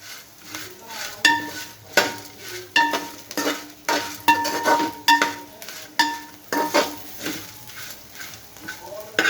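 Bitter gourd dry-fried without oil in a pan, stirred with a utensil in a regular rhythm of scraping clinks over a soft sizzle, with a voice faintly heard in the background.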